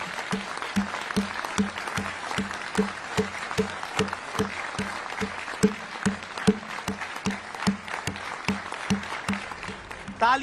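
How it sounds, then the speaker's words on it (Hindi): Sustained applause from a large audience at the G20 summit hosted by India: dense, steady rhythmic clapping filling the whole stretch, fairly close and even, with no speech over it. "तालियों की ये गूंज"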